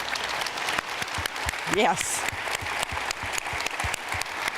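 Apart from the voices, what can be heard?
audience applause for Eva Schloss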